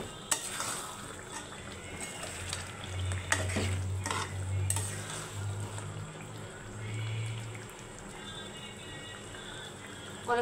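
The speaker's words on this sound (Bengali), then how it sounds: "মাছগুলো দিয়ে সুন্দর মতো নেড়ে চেড়ে কষিয়ে নেব ভালো মতো।" Chunks of large pangas fish stirred and fried in a pan for a spiced bhuna, with steady close sizzling, repeated scraping strokes of a spatula and faint clinks of utensil against metal.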